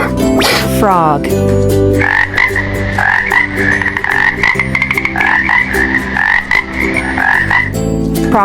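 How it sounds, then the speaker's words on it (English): A frog croaking: loud, rhythmic pulsing croaks repeat in a steady run for several seconds over a low sustained musical background. "Frog."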